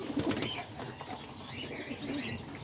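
Pigeons cooing and shuffling in a loft housing about a dozen breeding pairs with young squabs, soft low coos and occasional wing flutters repeating steadily at close range, no voices.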